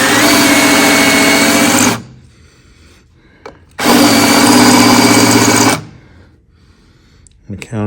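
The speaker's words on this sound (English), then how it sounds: "I'm going to countersink that fairly large, deep." A countersink bit cuts a large, deep countersink in steel, producing two loud, steady runs of machine whirring and cutting separated by a quiet pause, then starting again at the end.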